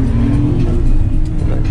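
A Suzuki Every VX van accelerating on a main road, heard from inside: a loud, continuous engine drone with road noise throughout the short stretch, no talk.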